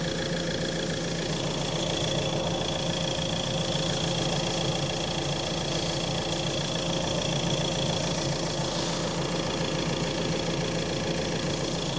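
A Ford Transit Custom van's diesel engine idles steadily, very low on oil, with a low, even rumble and a faint knocking chatter, running unbroken throughout.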